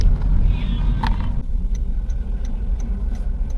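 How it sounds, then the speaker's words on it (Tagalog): Road traffic at the approach to MOA in Manila, heard from inside a vehicle as a steady low engine rumble, with a short brighter sound early on and faint regular ticking clicks after it. "Traffic dito sa papasok ng MOA."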